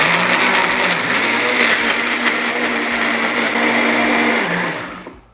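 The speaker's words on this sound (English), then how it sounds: "And we're just gonna blend that." Blender whirring through scotch bonnet peppers, chopped onion and about six garlic cloves for jerk marinade, a loud steady motor drone with a gritty chopping texture that runs several seconds before cutting off abruptly.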